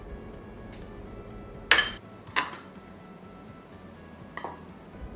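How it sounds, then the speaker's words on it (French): A spoon clinks sharply against a bowl a few times while cake batter for a chocolate Easter cake is stirred, with two bright knocks close together and a fainter tap later against quiet surroundings. "Et on mélange avec une cuillère"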